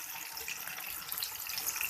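Water is poured into a ground spice mix while raw mango launji is being made, a soft, steady trickling splash that is close but faint and continuous.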